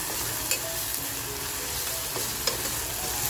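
Chopped onion and garlic fry together in the open base of a pressure cooker for a spicy mutton masala, with a steady broadband sizzle and occasional clicks of stirring, no voices.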